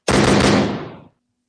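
A single loud, close gunshot sound effect with a sharp attack and a roughly one-second decaying tail, then silence.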